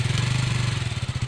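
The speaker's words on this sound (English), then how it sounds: "So you got your steady idle revs, but the moment that clutch comes out just a bit, it stalls immediately." A KTM Duke 200 motorcycle engine idles close by with a steady low throb, then the pulses turn uneven and fade, as if the single-cylinder engine is stalling.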